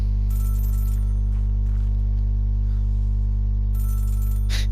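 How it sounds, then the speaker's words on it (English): A phone rings in the video game Celeste, with short electronic trill bursts at the start and end over a loud, constant low hum from the game's soundtrack, no speech. "Oh, and there's just a convenient phone. Oh, it's ringing for us as well."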